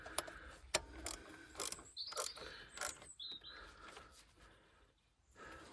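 A ratchet tightens a bolt while an Astra VXR is being repaired after a crash. It gives quick, faint clicking runs in short bursts with pauses between them, close by and quiet, and distant birds chirp in the background.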